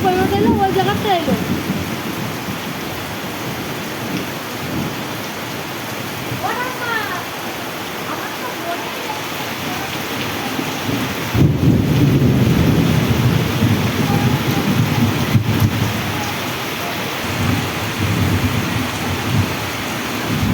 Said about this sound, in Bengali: বছরে এমন বৃষ্টি হয়নি।